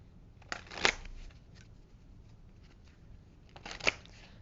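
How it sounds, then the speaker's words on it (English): Oracle cards being shuffled, two short bursts of riffling, one early and one near the end, with quiet gaps between; close and fairly soft, no voices. "let's pull a few oracle cards,"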